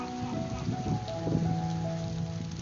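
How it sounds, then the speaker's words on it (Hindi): Light drizzling rain falls outdoors during sunshine, a soft, steady patter and hiss over quiet background with faint tonal hum, no voices. "हल्की हल्की सी रिमझिम लगी हुई है।"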